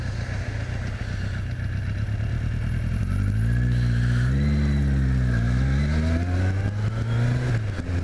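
Cars go by close on a road, with a steady engine roar whose pitch rises and falls as the vehicles accelerate and pass. The sound is loud and continuous and no voices are heard.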